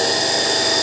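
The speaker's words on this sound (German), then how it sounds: "So, dazu nutze ich meine Tischbohrmaschine" Benchtop drill press spinning an axle against 1000-grit sandpaper while a saxophone roller is replaced, a loud steady motor whine with a bright sustained tone, close and uninterrupted.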